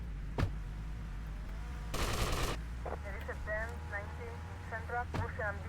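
GTA Vice City Definitive Edition gunfire: a single sharp shot, then a dense burst of automatic fire lasting about half a second, and another late shot, set among game radio chatter and voices.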